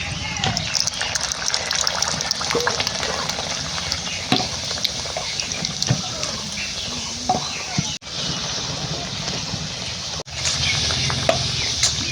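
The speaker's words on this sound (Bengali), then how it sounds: "একটা লুচি দিয়ে দেখি তেলটা এখনো ভালো হিট হয়নি" Luchi, a Bengali puffed flatbread, frying in oil that is not yet fully hot, giving a continuous bubbling sizzle with occasional splashes and clatter, while a person talks over it.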